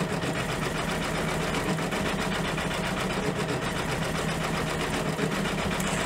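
An embroidery machine stitches a stained glass stocking design, giving a steady, continuous mechanical whirr with a rapid needle rhythm that never pauses or slows, close and even throughout.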